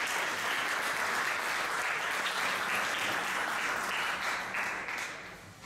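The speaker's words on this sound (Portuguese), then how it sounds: "Se merece un aplauso" A church congregation applauds during a sermon, a dense, even wash of clapping from many hands that holds steady and then begins to fade at the end.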